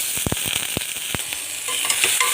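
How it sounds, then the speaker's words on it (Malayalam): Crushed ginger and garlic hit hot oil in a pan for a prawn fry, giving a steady bright sizzle with a cluster of sharp pops and crackles early on, close and fairly loud with no talking. "നമ്മൾ ചതച്ച് വെച്ച ഇഞ്ചി വെളുത്തുള്ളി ഇട്ട് കൊടുക്കാം"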